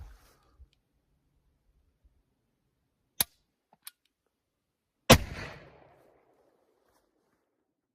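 A .410 shotgun insert round fires from a 12 gauge over/under shotgun fitted with a scope, one sharp close report with a short decaying echo, preceded by a few faint mechanical clicks.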